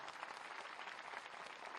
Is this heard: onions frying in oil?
no